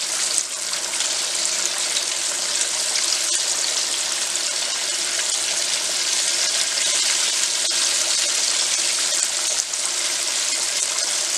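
Chicken tenders fry in hot oil with a steady, dense sizzle and bubbling that carries evenly for the whole stretch, close and fairly loud, with no voices over it.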